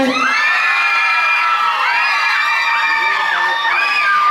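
A crowd cheers and shouts at a women's Muay Thai boxing bout in southern Thailand. The massed voices whoop loudly and steadily for the whole stretch, with no pause.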